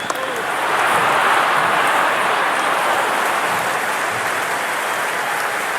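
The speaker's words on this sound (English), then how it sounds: "all these spectators here today completely enthralled and energised, judging by that noise anyway" A packed cricket stadium crowd at the Indian Premier League final between Royal Challengers Bengaluru and Gujarat Titans roars and cheers in a loud, continuous, dense wash of noise that swells early and holds steady.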